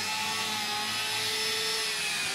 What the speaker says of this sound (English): with this tool, we're gonna sand and make his nose nice and shaped.